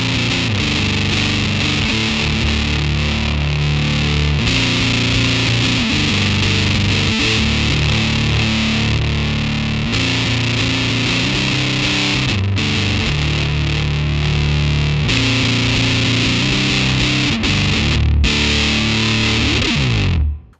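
An electric guitar runs through a Joyo Hot Witch R-25 fuzz pedal at low gain, playing chugging riffs and sustained chords with a dense, fuzzy, loud tone and brief gaps between phrases, no talking.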